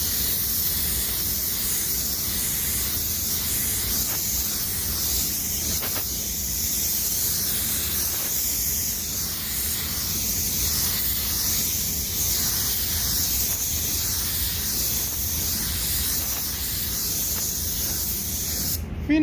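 A paint spray gun sprays car paint onto a Ferrari fender with a steady, loud, unbroken hiss of compressed air that runs almost twenty seconds without pause, close and even throughout.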